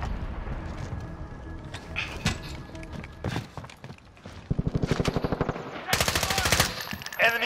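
Rapid bursts of machine gun fire ring out in a Call of Duty: Warzone match, scattered single shots early on giving way to sustained rattling volleys near the end.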